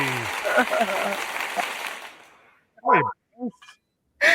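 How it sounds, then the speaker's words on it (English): Audience applause welcomes guest Briles at a game-scene set in Raleigh, a dense patter under talk that fades out within a couple of seconds, followed by three short, loud dog barks. "Let's give a big round of applause for Briles, everybody."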